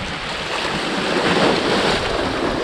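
Strong wind buffets the microphone on the Scottish coast during a moto-camping trip, a steady loud roar mixed with breaking surf that continues alone the whole time.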